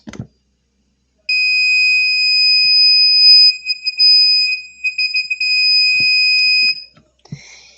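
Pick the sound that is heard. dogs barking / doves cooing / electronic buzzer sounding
electronic buzzer sounding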